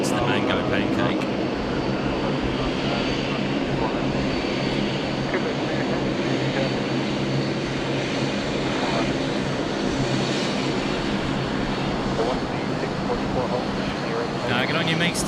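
A fixed-wing airliner on approach at Sydney Airport gives a loud, steady engine roar that fills the whole stretch, with voices talking over it.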